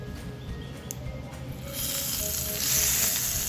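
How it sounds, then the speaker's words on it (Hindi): A hot tempering of oil poured onto kadhi pakoda curry bursts into a loud hiss, the sizzle swelling after a quieter start and sputtering steadily nearby. "ये गर्मा गर्म तड़का सीधा डालें कड़ी के ऊपर"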